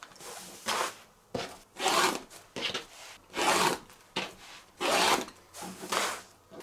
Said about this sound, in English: we're gonna trim a quarter of an inch away all the way around the outside